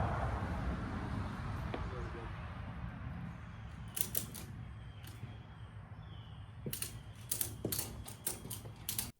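A ratchet strap is cranked tight over a solar shed being readied for moving, giving short bursts of crisp mechanical clicks in two quiet clusters over a low steady background hum.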